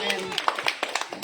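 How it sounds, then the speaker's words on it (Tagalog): A congregation claps in praise during a church sermon, a run of sharp, fairly regular handclaps over about a second, with a preacher's voice continuing beneath them. "O, palakpak kay Lord."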